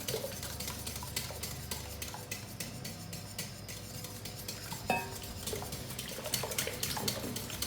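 A utensil stirs egg yolks into Japanese cheesecake batter in a bowl, a steady close scraping and clinking with soft wet churning, broken by a single sharper knock of metal on the bowl partway through.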